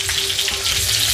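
Tunisian couscous meatballs fry in hot oil, giving off a dense, loud, continuous sizzle with fine crackling bubbles, close up and with no one talking.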